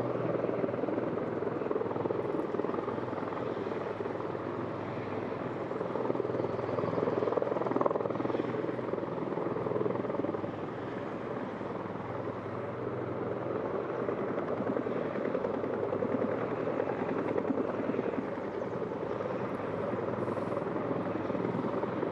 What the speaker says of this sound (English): the attack aircraft and the V22 will depart simultaneously